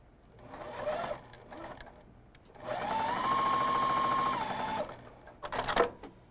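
Sewing machine chain sewing quilt fabric pieces, a quiet close hum in short bursts, with a longer steady run in the middle and soft handling clicks between stitches.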